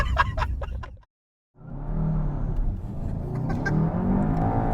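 Engine of a VW Golf GTI Clubsport revving with artificially enhanced sound from a firewall resonator, a steady loud drone building after a brief silent gap, heard from inside the cabin.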